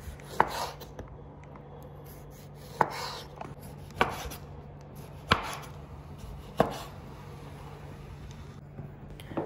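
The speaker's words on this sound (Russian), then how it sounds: "Нарезаем кольцами помидоры." A knife slicing tomatoes into rings on a cutting board, five or so distinct thuds spaced a second or two apart, close up with a faint hum behind.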